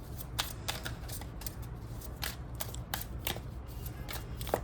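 Tarot cards being shuffled by hand, close and crisp riffling flutters and slaps repeating in quick irregular bursts over a steady low background hum.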